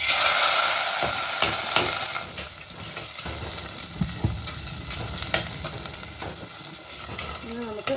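Turkey berries sizzle loudly in hot oil with popped mustard seeds, steady crackling and occasional stirring scrapes, close up and continuous, no one talking.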